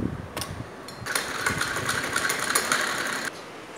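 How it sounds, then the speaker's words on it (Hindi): A sewing machine stitches two fabric strips for a baby frock, a close buzzing motor hum that starts after a short fumbling and then runs steadily for a few seconds before stopping. "ऐसे दोनों पट्टी को ऐसे सीधा सिल देंगे।"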